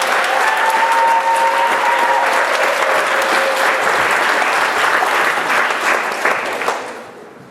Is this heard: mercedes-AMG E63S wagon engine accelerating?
no